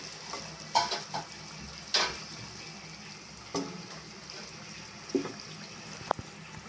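Coriander and cumin masala fries in a pan for fish curry with a low sizzle, while a spoon scrapes and taps the pan a few times.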